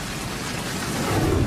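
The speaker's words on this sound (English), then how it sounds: "they dumped this massive hail right on the beach" Massive hail pounding down onto a beach during a storm, a dense, steady roar of impacts that swells louder toward the end, with no voices.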